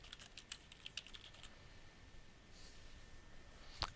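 Quiet keyboard typing, a run of light rapid key clicks that pause midway and end with one sharper tap, no voices.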